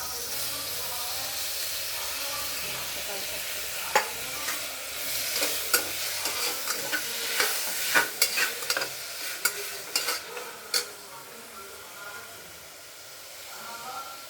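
Tomatoes frying in a pan for goat meat curry, stirred with scraping, clattering strokes over a steady sizzle and hiss, the stirring clicks bunched in the middle and fading again.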